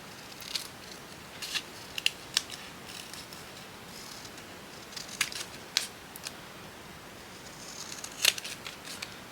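Scissors snipping through seam binding during a journaling craft session: a series of short, crisp, irregularly spaced cuts with quiet gaps between them, close and fairly faint over a soft background.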